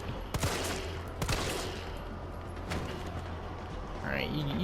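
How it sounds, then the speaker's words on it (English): Gunfire in the Resident Evil 3 video game: three sharp, loud shots crack out at irregular intervals over a busy game soundscape, with a voice briefly present. "I will shoot."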